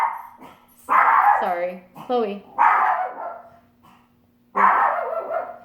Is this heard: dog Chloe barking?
yes